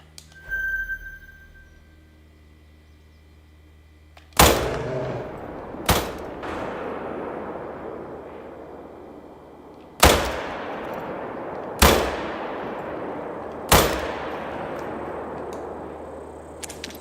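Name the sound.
gunshot while hunting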